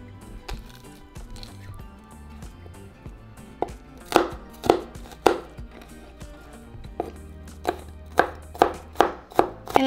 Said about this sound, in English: so just mince your garlic cloves